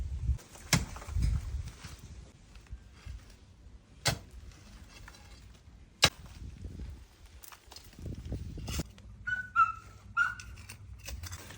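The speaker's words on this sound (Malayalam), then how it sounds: "അവിടെ കേൾക്കുന്ന വിസിലടി ഞങ്ങളുടെ ലൂണയുടെ സൗണ്ടാണ്" A pet dog whines with high thin whistling cries near the end, fairly faint against scattered sharp knocks and rustling in an outdoor garden.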